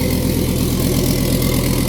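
Toyota MR2 with a turbocharged VR6 swap idles with no exhaust fitted, a loud, raw, steady low rumble with an even pulsing beat, close and continuous with no talk.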